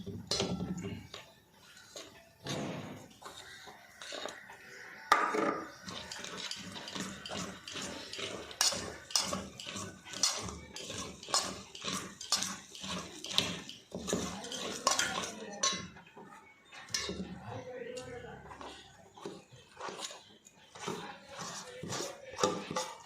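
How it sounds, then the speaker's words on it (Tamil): A spoon stirs rice-flour porridge in a metal pot while making idli batter, giving a long run of irregular clinks, scrapes and knocks against the vessel, with voices talking intermittently in the background. "இப்போ இந்த மாவை கொஞ்சம் கொஞ்சமாக இதில் போட்டு கிண்ட போகிறேன்"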